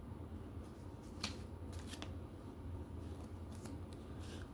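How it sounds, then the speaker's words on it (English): Tarot cards shuffled and handled near and close, a steady papery riffling with a few sharper slaps and flicks over a low hum, with no talk. "All the cards keep falling out of my hand"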